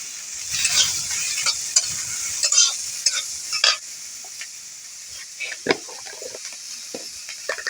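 Spring onion greens frying with salt and turmeric in a pan, a soft hissing sizzle with scattered spatula scrapes and clinks, fading toward quieter crackles, without talk.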